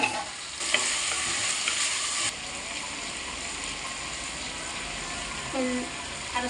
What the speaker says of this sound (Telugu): అల్లం వెల్లుల్లి వేస్తాం, కలుపుకుందాం.